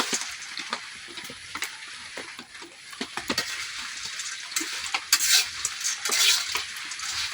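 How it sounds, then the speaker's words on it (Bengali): Peanuts dry-roasting in a wok over a village kitchen fire, with repeated scraping stirs and light rattling of the nuts against the metal, a faint sizzle running underneath. "ভাজি করার লাগে কড়াই বসাই দিচ্ছি, এখন কড়াই বাদামগুলো দিয়ে দিতেছি"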